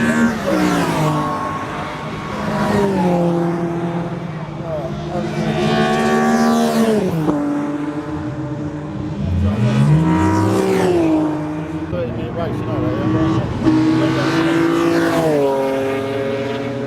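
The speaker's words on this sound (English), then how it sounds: "We've got cars left, right and centre. Just going and going and going." Race cars lapping Donington circuit, engines roaring and revving with rising and falling pitch as several cars pass close and fade, layered and continuous throughout.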